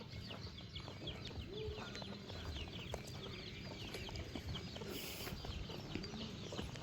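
Chickens on a rural Thai homestead cluck in soft, scattered bursts amid steady outdoor background noise, faint and somewhat distant, with ducks nearby.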